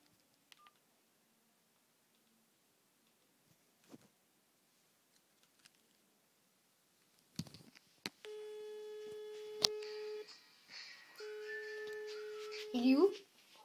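Telephone keypad tones and a ringing call tone sound as someone places a call, steady repeated beeps after a stretch of near silence, ending with a short burst of higher tones.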